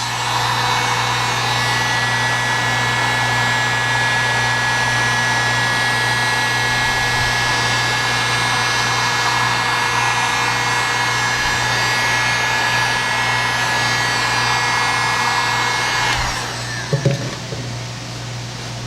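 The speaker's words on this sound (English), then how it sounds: "I'm going to go ahead and heat this." A heat gun blows steadily on a boat rub rail during installation, a loud continuous whirring hiss with a constant tone that cuts off near the end, followed by a few faint handling knocks.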